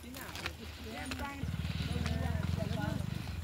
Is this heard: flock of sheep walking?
yes